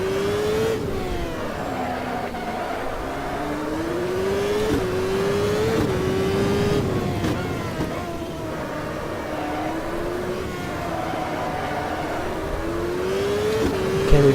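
Race car engines roar in the Automobilista CART 1998 sim on the Detroit street circuit, close and loud, rising and falling in pitch through repeated gear shifts, braking and acceleration, with cars battling nearby.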